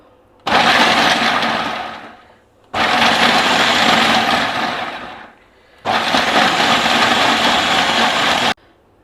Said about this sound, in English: you can just use your regular mixie jar and use the pulse mode 2 or 3 times